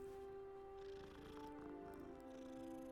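A cat purrs steadily while being petted in the Hogwarts Legacy video game, a soft, continuous low rumble with a faint tonal hum that stays even and quiet from start to finish.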